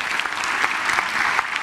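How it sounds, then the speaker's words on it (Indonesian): Studio audience clapping for a barongsai lion dance team on a live television talk show, a dense, even burst of applause filling the short moment. "Tepuk tangan sekali lagi"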